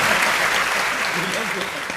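An audience at a comedy poetry show applauds loudly, continuous dense clapping with a voice speaking underneath.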